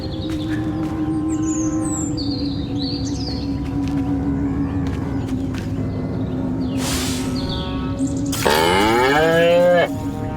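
Cattle moo in the Destroy All Humans! video game, a steady low drone with a loud, drawn-out moo near the end over a farm ambience with faint bird chirps.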